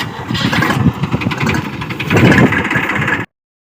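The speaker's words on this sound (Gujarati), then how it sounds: "ટ્રેક્ટર આપણે કેરામાં ચાલુ કર્યું છે" A tractor engine cranks and starts up loudly in a farm field for sowing, a close, rough chugging rumble with uneven pulses that cuts off abruptly, no voices.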